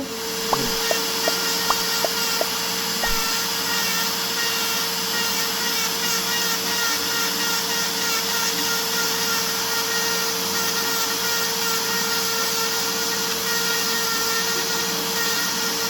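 A nail grinder whirs at a steady high pitch while grinding down an ingrown toenail, a continuous buzzing drone that holds through the whole stretch after a few soft clicks at the start.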